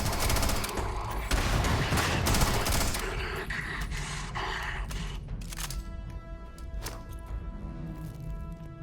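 Rapid bursts of automatic gunfire in the space shooter game Starfield, loud and dense at first, then more scattered shots and impacts as the firefight continues.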